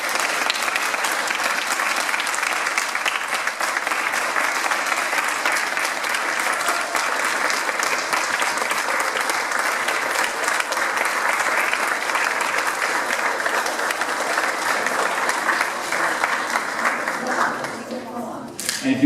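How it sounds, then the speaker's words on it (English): An audience gives Gary a big, sustained round of applause: dense, even clapping that holds for about eighteen seconds before cutting off abruptly. "let's give Gary a big round of applause"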